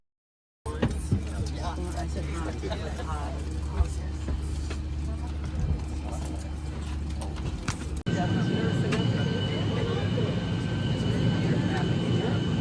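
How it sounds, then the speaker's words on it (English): A steady engine drone fills the cabin of a small passenger plane flying over Europe, loud and continuous with a rougher, louder shift partway through, and no voices are heard over it. "Bro, I'm really flying the same plane Amelia Earhart flew."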